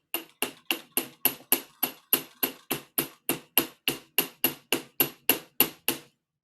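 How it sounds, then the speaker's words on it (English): About twenty sharp metallic hammer taps strike a medieval-style wire pin at a steady, even rhythm, each ringing briefly before the next, close and clear with no talking. "We're going to hammer this a little bit."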